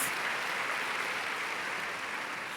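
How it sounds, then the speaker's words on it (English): An audience applauds at a back-to-school kick-off event, a dense, steady wash of clapping from many hands throughout, with no voices heard. "please give him a round of applause"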